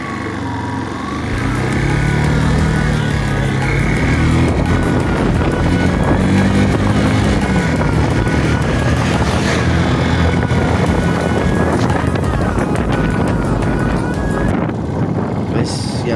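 A motorcycle rides along with its accelerator wire pulled by hand, a loud, continuous engine drone mixed with heavy wind rush close to the microphone throughout.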